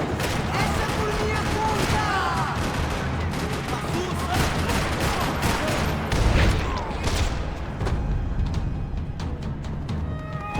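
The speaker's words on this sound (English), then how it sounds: "Another parking lot rattling with gunfire." Sustained gunfire rattles through a parking lot in the video game Max Payne 3, loud bursts of rapid shots and cracks overlapping without pause, with a heavier thud partway through.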